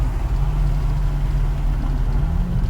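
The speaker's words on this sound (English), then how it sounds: "Let's go downshift." Ford Falcon FG FPV F6 making around 800 hp, its engine droning low and steady from inside the cabin during a paddle-shift street test, a loud continuous rumble with a slight pitch change.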